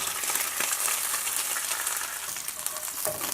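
A lamb chop browns in a pan with a dense, continuous frying sizzle that crackles and spits close by, with no one talking.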